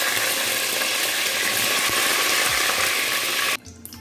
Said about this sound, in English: Now I'm going to fry it a little bit.